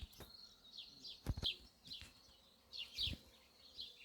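Bees buzz over cornflowers at an apiary in a ravine, a soft steady hum with a few louder passes close by and faint bird chirps in the background.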